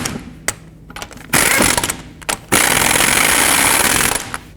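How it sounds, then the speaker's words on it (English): Torque wrench tightening lug nuts on a 2007-14 Chevy Silverado to 140 foot-pounds gives sharp, loud ratcheting clicks, first in short bursts, then long continuous runs close by. "I'm going to torque them to 140 foot-pounds"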